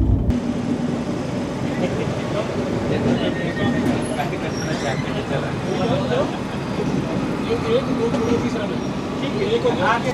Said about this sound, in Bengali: ট্রেন এখন এসে পৌঁছালো কাশগঞ্জ জাংশনে